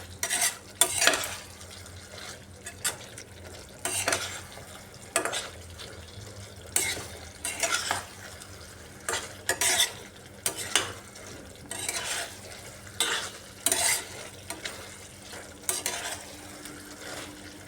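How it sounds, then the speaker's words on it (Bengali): Pieces of ash gourd are stir-fried with spices in a pan, making a soft sizzle under repeated scraping and clinking strokes of a spatula against the metal, in an irregular rhythm close to the microphone. "চালকুমড়োগুলো দিয়ে আবার মশলার সাথে একটু সময় কষিয়ে নিচ্ছি"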